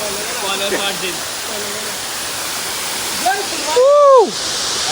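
A newly visited private waterfall roars steadily and close, a dense rushing wash that fills the whole scene while people's voices come and go over it.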